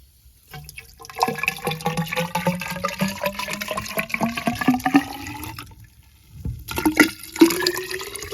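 Water is poured into a pipe holding antique Vetterli rifle parts, a close gurgling fill with rising pitch that stops briefly and then resumes.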